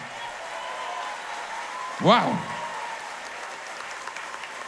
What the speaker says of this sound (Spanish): dar um aplauso forte na orquestra aqui que está acompanhando nessa noite